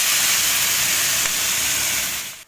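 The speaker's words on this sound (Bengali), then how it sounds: "শুকনো লঙ্কা জিরে ফোড়ন দিয়ে এবার শাক ভাজবো" Greens frying in a pan after a dried red chili and cumin tempering give off a loud, continuous steamy hiss with a dense sizzle that holds steady and then drops away at the end.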